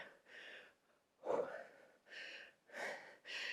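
Sharp, audible exhalations from a person doing a dumbbell press workout, several short breaths in an uneven rhythm, close and fairly quiet.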